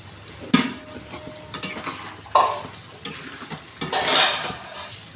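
Fish pieces going into a simmering pumpkin curry are stirred through the pot with a utensil, giving several sharp scrapes and knocks over a soft sizzle, close by and with no voices.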